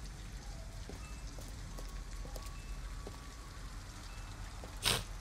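Steady rain falls outdoors in Detroit: Become Human as an even, soft hiss with scattered droplet ticks. It is low and continuous, and one sharp brief burst comes near the end.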